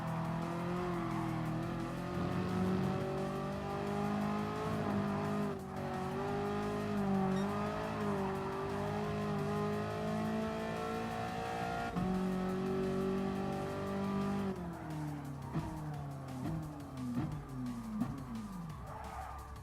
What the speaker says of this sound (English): this is the IsoRivolta Zagato VGT, and now it's time for a cinematic lap of this Italian circuit